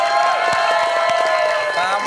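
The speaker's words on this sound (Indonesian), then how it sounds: "tepuk tangan dong" Studio audience on Little Big Shots Indonesia bursts into applause and cheering as a young singer named Els is called out, a loud, continuous crowd roar with whoops and clapping over a sustained musical chord.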